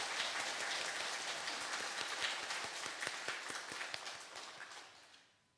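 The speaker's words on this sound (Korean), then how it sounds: "신부님께 뜨거운 우리 환영의 박수 주시기 바랍니다" A church congregation claps to welcome a priest at Sunday Mass on the first Sunday of Advent. The applause is dense and steady, fairly distant and soft, and it thins out and fades away at the end.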